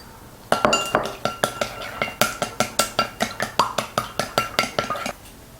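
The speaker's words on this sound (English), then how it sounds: "Beat the eggs and combine with the cornstarch slurry." Eggs being beaten with a cornstarch slurry in a bowl: a quick, steady run of sharp utensil clinks against the bowl, about twenty strokes in a regular rhythm, close and clear with no talk.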